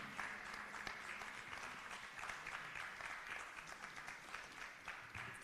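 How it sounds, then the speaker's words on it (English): Dense, sustained applause from a large audience at a youth leadership symposium in Lagos, continuous clapping filling the hall without a break, heard at a moderate distance. "Please, you have to keep clapping. And clap harder till she gets here."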